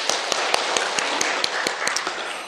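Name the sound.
congregation applauding, clapping for the Lord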